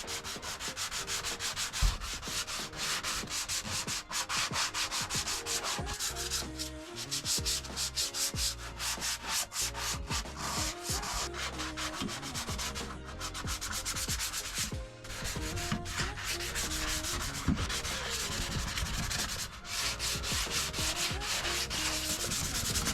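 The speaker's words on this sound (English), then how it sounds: "so let's get to sanding" Hand sanding the rear body panels of a 1984 VW Rabbit with sanding blocks: continuous, rapid back-and-forth rasping strokes, close and loud, holding a steady rhythm for the whole stretch with only brief pauses and no speech.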